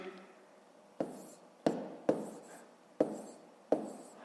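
Numbers are written by hand on paper during a fifth-grade maths exercise, giving six short, sharp pen taps and strokes spaced irregularly over a quiet background.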